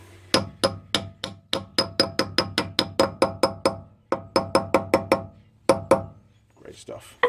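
A hammer taps the front wheel bearing cap onto the hub of a 1993 Ford Courier pickup, about two dozen quick, sharp metallic strikes in a steady rhythm with a short pause, close and loud.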